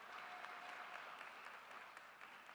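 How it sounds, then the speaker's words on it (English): An audience claps at a commencement celebration, a continuous, even round of applause from a seated crowd that holds steady for the whole stretch with no voices standing out. "Let's clap for that."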